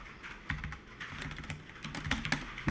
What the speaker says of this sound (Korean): 이런 식으로 쭉 타이핑을 할 수가 있어요.